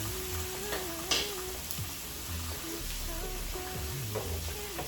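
Onions sizzling on a hot griddle during a home hibachi-style cook, a steady hiss with occasional scrapes and clinks of a utensil, close and continuous.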